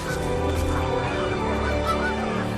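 A flock of geese honking together in a dense, continuous chorus, loud and close, with overlapping calls throughout.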